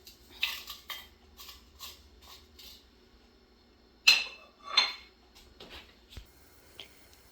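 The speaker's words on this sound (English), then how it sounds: "the black mustard seeds are now sizzling in the oil" Quiet sizzling of black mustard seeds in hot oil with scattered sharp pops and crackles, a few louder bursts standing out against a low steady hiss.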